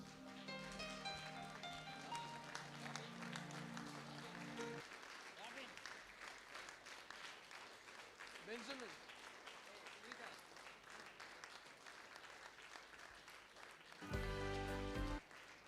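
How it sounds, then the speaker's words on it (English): An audience claps steadily and at length to welcome dignitaries arriving in a hall at an entrepreneurship education event. The moderate, even applause carries on for many seconds, with a brief louder swell near the end. "Give your applause, please."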